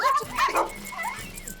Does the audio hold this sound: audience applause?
no